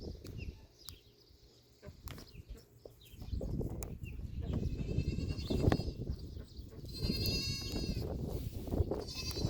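Goats bleat repeatedly nearby on a West Texas homestead, several wavering cries overlapping amid rustling and shuffling, with a few faint bird sounds in the background.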